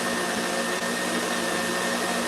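A stand mixer whips macaron meringue at high speed, giving a dense, steady whirring hum that stays loud and unbroken throughout with no talk.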